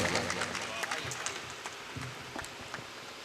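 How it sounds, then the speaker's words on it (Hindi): Loud applause from an audience at a Hindi-Urdu poetry recital, welcoming the poet Masoom Ghaziabadi; a dense, steady wash of many hands clapping fills the whole stretch with scattered sharper claps. "जोरदार तालियों से आप आमंत्रित कीजिए"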